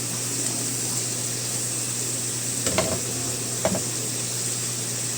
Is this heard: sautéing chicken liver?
yes